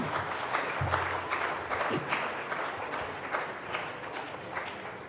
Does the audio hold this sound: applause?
yes